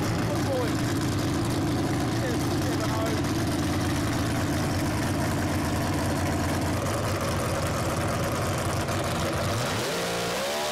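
A naturally aspirated dragster engine launches down a drag strip with a loud, sustained, saturated roar that fills the whole run and tails off and drops in pitch at the very end.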